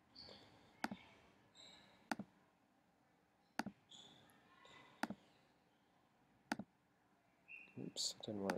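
Sharp computer mouse clicks sound one at a time at irregular intervals, about eight in all, while the user rotates and transforms shapes in geometry drawing software. Quiet talk is heard between the clicks.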